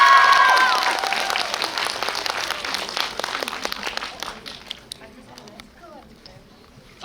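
Big crowd applause greets film cast members arriving at a Korean movie screening event. It starts as loud, dense clapping, then slowly thins and fades, with a few voices mixed in.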